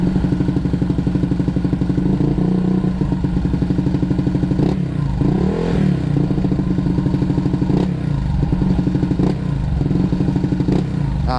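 Exhaust of a bored-up Honda PCX 160 scooter idling below 1000 rpm, a steady near, loud low throb with fast even pulses and faint mechanical clatter throughout, no talk.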